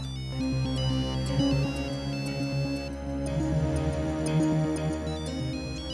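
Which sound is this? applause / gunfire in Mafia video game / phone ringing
phone ringing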